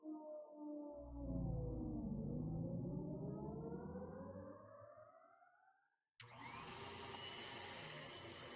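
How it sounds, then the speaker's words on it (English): An industrial vacuum cleaner in the video game Anodyne 2 whines as it spins up, its tone rising and swelling loudly before cutting out, then an abrupt, harsh, noisy roar. "Nora awakes to find the angry whine of an industrial vacuum cleaner"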